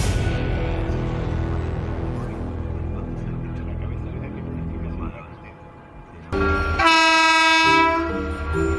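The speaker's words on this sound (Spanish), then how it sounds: "La maniobra impresiona, pero pronto descubriremos que la poderosa locomotora solo remolca 10 vagones." A powerful freight locomotive hauling ten wagons at the port of Algeciras rumbles past at length, then a loud horn blast sounds near the end.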